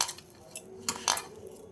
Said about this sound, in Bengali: এবার সব মিশিয়ে নেব। আলুটার সঙ্গে মেখে নেব।